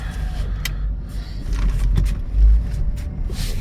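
A 2003 Chevrolet Tahoe with a 4L60E transmission that is not shifting pulls away on a drive. A low, steady road rumble is heard from inside the cab, with a few faint clicks and knocks.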